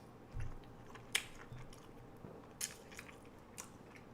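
Soft crunchy bites and chewing on a donut eaten alongside a glass of milk, a few quiet crisp bites spaced out over a low, steady background, with no talking.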